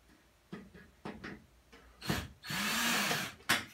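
A power drill drives a screw into a ceiling LED light fixture, several short whirring pulses followed by one longer sustained run and a final brief burst, close and fairly loud, with no talking.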